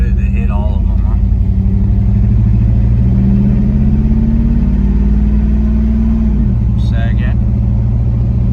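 A 1980 Chevrolet C10 truck with an LS engine swap accelerates hard through the gears, a loud, close engine roar that rises in pitch and then drops at a shift, with people talking over it.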